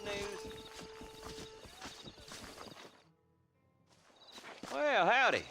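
Horse hooves clip-clop in Red Dead Redemption on PS5, a steady walking beat at first under music and talk, then stopping as the rider dismounts, followed by a quiet lull and louder game sounds.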